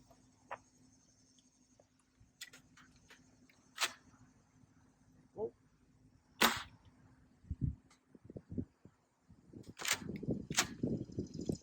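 A Game Face Trion foam dart blaster fires ruby darts outdoors, giving a series of sharp, separate clicks and thumps spread over the stretch, some faint and some loud, followed by a cluster of rustling handling noises.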